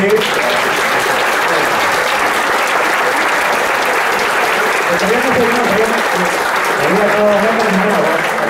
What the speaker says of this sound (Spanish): tenemos un gran aplauso fuerte.